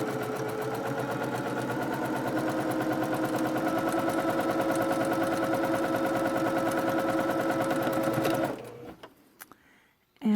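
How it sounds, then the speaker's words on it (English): A sewing machine stitches a curved center seam on a fabric mask with a back stitch, running as a fast, steady mechanical whir for about eight seconds before stopping, followed by faint handling noises. "we're going to sew this center curved seam, 1/4 inch seam allowance with a back stitch"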